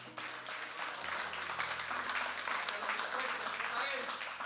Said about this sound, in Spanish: Vamos a darle un aplauso al Señor entonces.